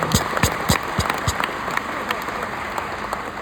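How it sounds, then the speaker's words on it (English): An audience at a Syracuse civic event applauds, with a few loud distinct claps up front giving way to scattered, thinning clapping in a large room. "Give them a round of applause."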